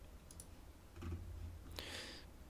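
A few quiet, sharp computer mouse clicks sound in a quiet room, one early pair and a couple more later, close and faint, with no talking.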